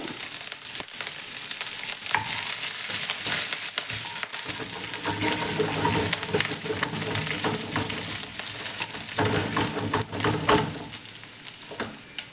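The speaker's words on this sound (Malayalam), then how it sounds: "ചൂടായ വെളിച്ചെണ്ണയിലേക്ക് കുറച്ച് തേങ്ങാക്കൊത്ത് രണ്ട് പച്ചമുളക് കീറിയത് ഒരു ചെറിയ കഷ്ണം ഇഞ്ചി കുറച്ച് കറിവേപ്പില" Coconut pieces, slit green chillies, ginger and curry leaves frying in hot coconut oil, a loud continuous close sizzle with stirring clatter and crackles that swell and ease over about twelve seconds, no voices.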